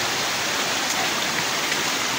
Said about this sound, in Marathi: त्याच्यामुळे पूर्ण पाणी देखील वाहत आहे गडावरनं.